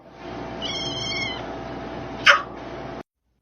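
A kitten meows in a short, clear, close call with a thin high pitch, followed by a brief sharp squeak, in an otherwise quiet room.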